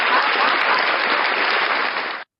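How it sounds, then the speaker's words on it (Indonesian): A burst of recorded applause played over a church service sound system, loud and steady for about two seconds before cutting off abruptly. "Pak Andre applause-nya mungkin kekencangan dikit ya, mesti dikecilin"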